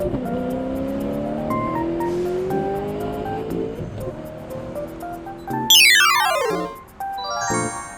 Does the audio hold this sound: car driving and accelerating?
yes